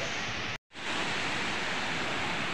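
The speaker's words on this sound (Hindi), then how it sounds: "तो ये है मेन पार्ट का खूबसूरत सा झरना टाइगर पॉइंट।" Waterfall at Tiger Point near Ambikapur: a steady, loud broadband roar of falling water, broken by a brief silent cut partway through before the roar resumes unchanged.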